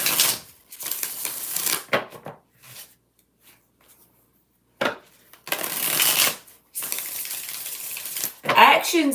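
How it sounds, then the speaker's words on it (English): Tarot card deck shuffled by hand in several bursts of riffling and slapping, with short pauses between, close and fairly loud, ending in a busier flurry of card handling. "5 shuffles for Brian."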